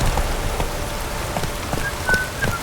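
Light rain patters steadily in The Witcher 3, a soft continuous wash with faint scattered drops and no voices.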